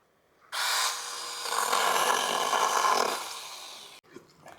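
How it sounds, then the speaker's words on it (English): A sawzall reciprocating saw cuts through a thick tree branch during backyard trimming, a loud, steady buzzing drone that runs for about three and a half seconds before stopping abruptly, followed by faint rustling. "So with the sawzall, it did take a little bit extra to get it in there."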